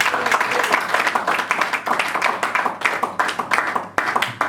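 A church congregation applauds at a worship service, dense sustained clapping from many hands close by, with a few voices mixed in throughout.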